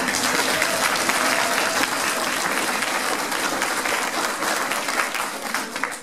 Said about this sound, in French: Ah, on peut encore les applaudir.